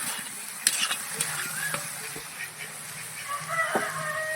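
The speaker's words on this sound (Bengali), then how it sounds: "এখন আমার রেডি শাক ভাজা" Leafy greens fry with garlic in a pan, a steady sizzle broken by sharp clicks and scrapes of stirring, moderately loud and close, with no talking.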